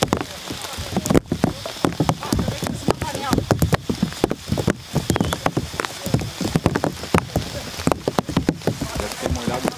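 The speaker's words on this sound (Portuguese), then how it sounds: "tá chovendo. Tá trovoando." Rain falls steadily on a rain cover during a stormy campsite night around a campfire, with dense pattering drops and sharp close taps throughout; thunder is not distinct but the downpour is continuous and loud.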